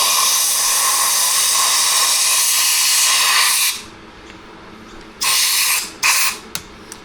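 Compressed air blasts across the crank of a Husqvarna 365 chainsaw during a top-end rebuild: one long loud hiss, followed by several short bursts.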